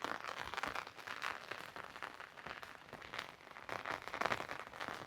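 Steady, soft rain falls continuously over a village in Botad, a faint, even patter with small crackling drops and no voices.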